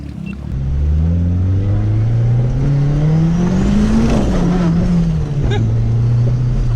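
A turbocharged Honda Civic wagon launches hard on dirt, its engine rumbling loud and close as revs climb steadily, dip with a clutch kick, then pull again in a continuous roar.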